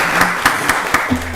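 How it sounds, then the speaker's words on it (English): Applause from attendees at a Rockdale County Board of Commissioners meeting: a dense, steady patter of clapping filling the short stretch, with a low tone running faintly beneath it. "Let's give a round of applause for that."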